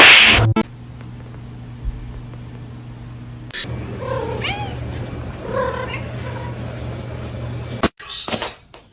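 A cat meows a few times in drawn-out, wavering cries over a low background hum, with some clatter at the start and end.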